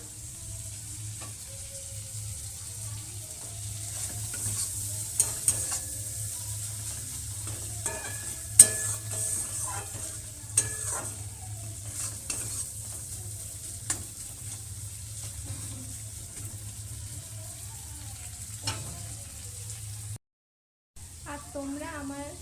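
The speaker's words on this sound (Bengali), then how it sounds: "আমি দেখি চিংড়ি মাছটা ভাজা হলো কিনা" Prawns frying in a pan in a home kitchen give a steady, close hiss and sizzle, broken by occasional clinks of stirring. A faint voice is present now and then, and the sound cuts out briefly near the end.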